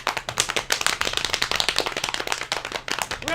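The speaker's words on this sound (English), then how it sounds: "Doing the clap. Doing slappy hands." Rapid, continuous hand clapping, loud and close, with sharp slaps in a steady rhythm throughout.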